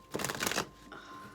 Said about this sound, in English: It just shuffles so perfectly.